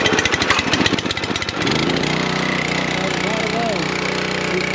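A petrol air compressor engine on choke cranks with rapid chugging pulses and then catches, settling into a loud steady running drone close by, with a voice briefly heard over it.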